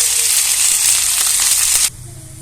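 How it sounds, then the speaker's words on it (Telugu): Fenugreek (methi) leaves fry in a hot pan on a low flame, giving a loud, steady sizzle and hiss that runs continuously, then drops abruptly to a much quieter simmering crackle near the end. "సిమ్లో పెట్టి కొంచెం వేయించుకుందాం."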